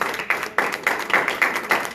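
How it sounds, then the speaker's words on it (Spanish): A church congregation claps in welcome for visitors, a steady run of sharp, evenly spaced claps roughly every third of a second. "Los vamos a recibir con un aplauso al Señor por sus vidas."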